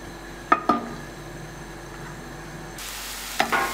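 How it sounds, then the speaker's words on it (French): Garlic and onion fry in a little oil until golden and translucent, a faint steady sizzle with a few sharp clinks of a utensil against the pan. "On fait revenir l'ail et l'oignon dans un peu d'huile jusqu'à ce que ça devienne doré et translucide."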